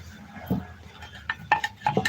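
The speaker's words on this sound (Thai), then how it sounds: "แม่คลุกเขาให้เข้ากัน" A spicy chayote salad tossed in a bowl, with a few scattered clinks and scrapes of a utensil against the dish, close and intermittent with quiet gaps between.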